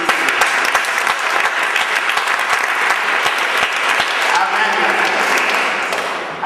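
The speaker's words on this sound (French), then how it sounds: "Applaudissez le Seigneur." A church congregation breaks into loud, sustained applause, dense clapping filling the space for several seconds before tapering slightly at the end.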